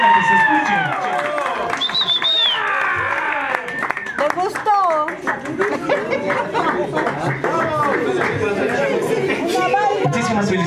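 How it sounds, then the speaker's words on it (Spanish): Family gathering celebrating a mother's birthday, with a room full of people chattering, laughing and clapping in scattered bursts, voices overlapping throughout at close range. "El aplauso para nuestra cumpleañera, que se escuche."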